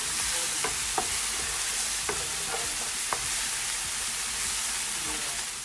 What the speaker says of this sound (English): just saute this for about 1 minute